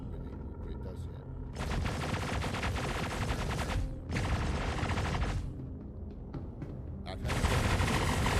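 Spaceship weapons fire in the video game Star Citizen: sustained rapid bursts of cannon shots in several long stretches, loud and close, with a voice talking at the start.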